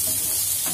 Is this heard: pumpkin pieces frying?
yes